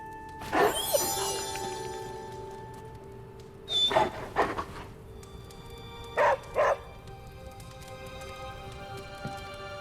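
A hellhound puppy in the video game Marvel's Midnight Suns gives three sharp bursts of yips and barks, each a quick pair or cluster, loud and close over a quiet musical background hum, with no speech.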